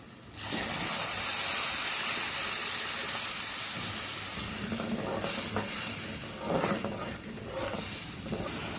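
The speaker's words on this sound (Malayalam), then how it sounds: "ഇനി കുറച്ച് ചൂടുവെള്ളം ഒഴിച്ചു കൊടുക്കാം" Hot water hitting a hot pan of spiced chicken liver masala, a sudden loud steaming hiss that holds for several seconds and slowly fades, with a few faint clatters toward the end.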